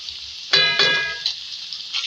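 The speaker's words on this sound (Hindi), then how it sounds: "इसका जो अपना कच्चापन होता है उसको ख़त्म कर देंगे, इतना फ्राई करेंगे।" Ginger-garlic paste frying in hot oil with softened onion and cumin, a steady close sizzle with two sharper bursts of spatter as it is stirred in, then settling to an even hiss.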